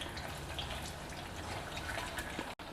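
Food fries in hot oil with a dense, steady sizzle and crackling bubbles, close and continuous, with a brief cut near the end.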